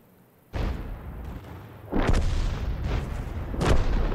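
Artillery fire in World of Tanks: heavy booming shots arriving in three separate bursts, each with a rumbling tail over a low battle background.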